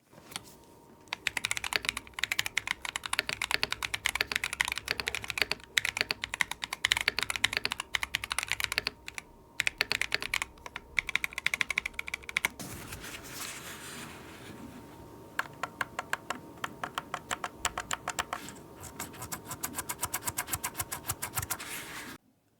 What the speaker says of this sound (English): what are your thoughts on the sound of the keyboard?